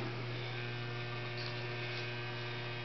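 A steady low electrical hum from a ZW model train transformer drones without change, quiet and constant, with no other sounds.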